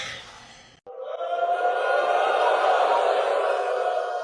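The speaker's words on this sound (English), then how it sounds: "That's Laura Ingraham getting booed" A political crowd boos Laura Ingraham. After a brief cut, a loud, sustained wall of jeering voices swells and holds steady, massed and reverberant, with no single speaker standing out.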